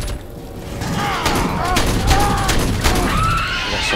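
Gunfire rattles through a firefight in the video game Aliens: Colonial Marines, dense bursts mixed with mechanical clanks, thuds and alien screeches, with someone talking over the shooting.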